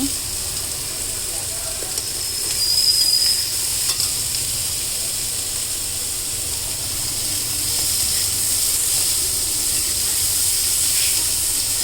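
Broccoli with red, green and yellow capsicum frying in a pan over a low flame, giving a steady soft hiss and sizzle that runs throughout with no break.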